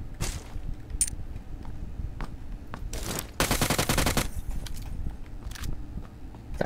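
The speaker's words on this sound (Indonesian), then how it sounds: "Okay, aku pakai UMP lah. Aku tembak kau eh." Rapid bursts of UMP submachine gun fire in PUBG, a dense automatic volley around the middle with shorter single bursts before and after, loud and close.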